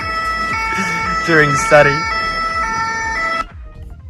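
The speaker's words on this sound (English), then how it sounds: "I'm hearing this sound, the ambulance in Paris" Two-tone ambulance siren on a Paris street, a loud steady wail with rising and falling sweeps, passing close and cutting off abruptly near the end over traffic rumble.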